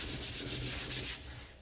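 Sandpaper rubs across a painted round wooden sign in quick back-and-forth strokes, close and fairly soft, fading out at the end.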